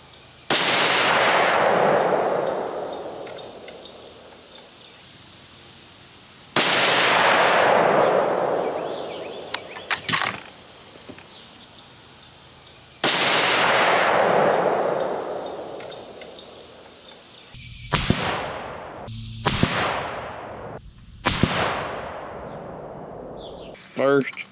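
Rifle shots from a .270 and a .30-06 fired at a 100-yard range, three loud sharp reports each followed by a long decaying echo, then three quicker cracks with shorter tails near the end.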